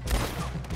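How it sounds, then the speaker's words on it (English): A gunshot in the video game Red Dead Redemption 2, a short loud crack with a brief rumbling tail, heard alone. "Another gunshot."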